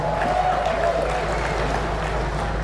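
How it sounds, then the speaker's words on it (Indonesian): A village crowd in Seluma, Bengkulu applauds the Indonesian Minister of Villages, a steady, moderately loud patter of many hands mixed with a low rumble of outdoor crowd noise and no clear voices. "Tepuk tangan yang meriah untuk beliau."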